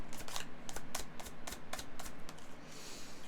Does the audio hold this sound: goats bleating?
no